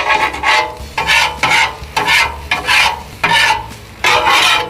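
Eggs for a country breakfast being scraped and stirred on a Blackstone griddle, a loud rhythmic series of about eight rasping spatula strokes over a faint sizzle, close up and without talk.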